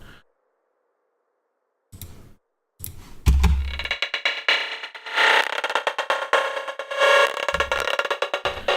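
Harsh, distorted Absynth synth effects run through Gatekeeper gating and Decapitator distortion arrive in choppy gated bursts, broadband and gritty, after a short quiet stretch at the start.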